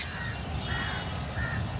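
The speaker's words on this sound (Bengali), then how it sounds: "কাক ডাকছে" Several harsh crow caws ring out against a steady outdoor hiss in a rain-soaked park in Dhaka, a few calls spaced across the moment, fairly close and clear.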